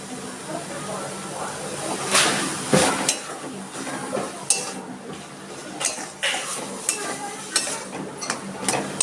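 Banana stem being stirred with mustard paste in a pan, a utensil scraping and clinking against the metal in irregular strokes with a faint sizzle underneath.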